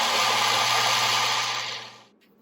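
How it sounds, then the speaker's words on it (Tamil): A mixer grinder whirs loudly and steadily while blending a saffron milk kulfi mixture, then winds down and cuts off near the end. "நம்ம இப்ப அந்த மிக்சரை அரைச்சிட்டோம், நல்லா நைஸா அரைச்சிருக்கோம்"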